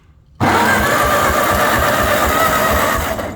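A 12-volt starter cranks the engine of a 1953 Ferguson TO-30 tractor that sat unused for 15 years, spinning fast in a loud, even chugging rhythm that begins abruptly and carries on without catching.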